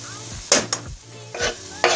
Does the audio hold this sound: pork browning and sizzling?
yes